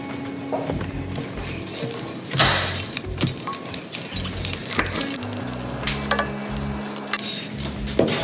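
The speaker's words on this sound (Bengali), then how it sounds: "এখন আমি প্যানে তেল দিয়ে দিচ্ছি" Chopped okra frying in oil in a pan gives a steady sizzle, broken by spoon stirring and light metallic clinks against the pan.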